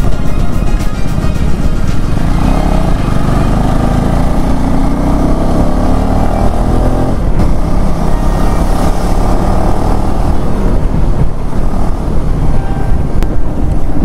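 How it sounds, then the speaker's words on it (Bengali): A KTM 390 Adventure S motorcycle rides a forest trail, its engine droning loud and continuous with rising and falling revs under heavy wind buffeting on the microphone, with no speech. "The way the bike pulls, man, it's beautiful."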